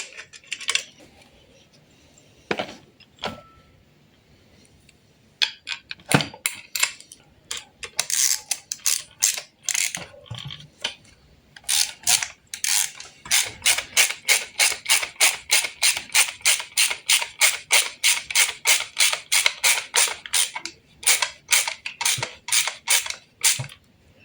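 Ratchet tightening cylinder head bolts during a MultiJet JTD diesel engine rebuild, bursts of close metallic clicking that settle into a long steady run of rapid ratchet strokes.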